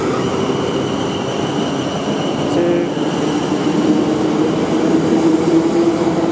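A South Western Railway Class 450 electric passenger train rumbles past close by at Brookwood, a steady loud roar of wheels and motors with a faint rising whine partway through.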